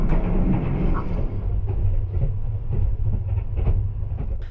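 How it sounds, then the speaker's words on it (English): Steady clickety-clack of train wheels on rails heard from inside a sleeper cabin on the Sunrise Seto, Japan's overnight sleeper train, with a continuous low rumble and regular rhythmic clicks running throughout. "listening to the clickety-clack of train wheels while lying in a sleeper train bed"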